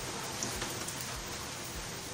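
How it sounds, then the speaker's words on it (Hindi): Heavy rain pours down at night, a dense, steady hiss of drops beating on surfaces, constant and loud throughout with no voices. "अच्छी खासी ज़बरदस्त बारिश हो रही है"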